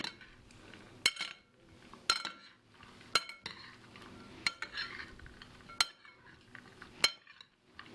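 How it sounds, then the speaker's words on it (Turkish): Spoon stirring an egg salad dressed with lemon juice and olive oil in a bowl, with soft scraping and six or seven sharp clinks against the dish at a steady pace, close up and with no talking. "Şöyle hafiften çok ölçülemeden karıştıralım."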